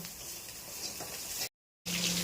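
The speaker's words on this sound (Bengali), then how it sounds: "মাছের মাথা ভাজছি, কাতলা মাছের মাথা" A catla fish head frying in a pan, with a soft, continuous sizzle and some stirring noise, broken by a short silent gap near the end.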